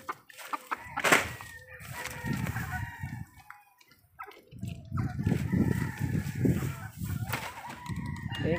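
A hen clucks and a rooster crows in a farmyard of gamefowl, with intermittent loud calls and clucking bursts separated by short quiet gaps.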